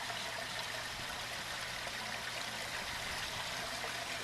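Water flows steadily into a pond skimmer basin, a continuous close rushing trickle that stays even throughout with no talk.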